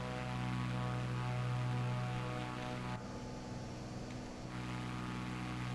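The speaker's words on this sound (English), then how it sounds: "And we're going to reduce our throttle." A Cessna C400 propeller engine in Microsoft Flight Simulator 2024 throttles down: a loud, steady droning hum with a noticeable shift midway as the power eases, continuous throughout.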